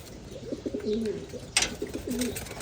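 Pigeons coo softly in repeated low, rolling phrases, close by, with a brief rustle partway through.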